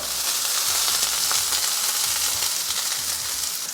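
White parts of spring onion and onions fry in a pan over a high flame for Dragon Beef, giving a loud, continuous close-up sizzle with no talk over it.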